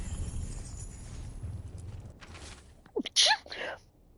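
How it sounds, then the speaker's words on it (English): A single sneeze after a quiet stretch: a sharp intake followed by an abrupt, bright burst near the microphone, with faint room noise beforehand. "I'm gonna sneeze."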